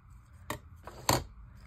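Two or three short, crisp snips of scissors trimming a paper stamp for a vintage-style glued craft page, close and isolated in a quiet room.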